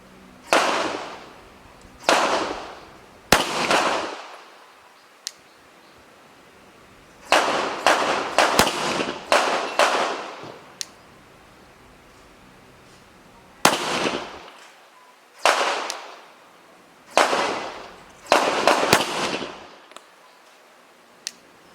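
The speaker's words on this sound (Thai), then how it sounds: "เดี๋ยวจะลองยิงดูกลุ่มกระสุนนะครับ" Glock 19 Gen 5 MOS pistol firing at about six to seven meters, loud close sharp reports in irregular bursts of two to four shots separated by short quiet pauses.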